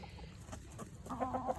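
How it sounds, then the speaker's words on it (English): A meat chicken left over from a farm flock clucks softly over steady farmyard background noise, a few short calls rising toward the end, close by and moderately quiet. "that's my 1 meat chicken that I have left over"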